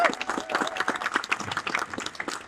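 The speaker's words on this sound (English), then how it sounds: "please give yourself a round of applause" Scattered clapping from a modest audience at an exhibition opening ceremony marking Windrush celebrations, uneven and fairly quiet, individual claps distinct rather than a dense roar.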